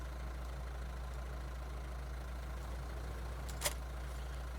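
A farm tractor engine idles at close range, a steady low rumbling drone that holds through the whole stretch, with one brief sharp click near the end and no voices.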